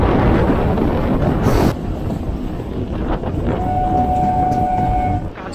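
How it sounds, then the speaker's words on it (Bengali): A local train on the Sealdah–Hasnabad line rumbles loudly and continuously with heavy wind noise, a faint horn-like tone appearing near the end. "আর আমাদের এই ট্রেনটা যাচ্ছে এখন হাসনাবাদ দেখতে পাচ্ছেন।"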